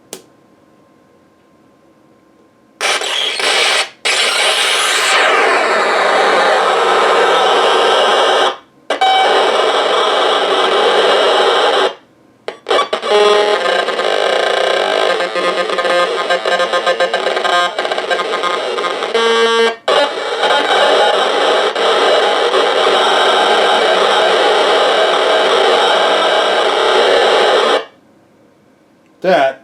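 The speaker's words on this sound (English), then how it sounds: "that is the sound of digital data." Harsh digital data from an EPROM played back as audio, a loud continuous buzzing, screeching noise in long bursts broken by several short silences.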